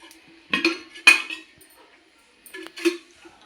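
A kadai set down on a stove, heard as two clusters of metallic clanks and clinks, close and fairly loud, separated by a brief quiet gap, with no talking.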